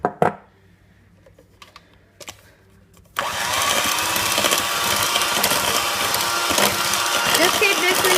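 An electric mixer starts up after a few quiet clicks and whips buttercream with powdered sugar, its steady motor whir and rattling beaters holding loud and constant to the end.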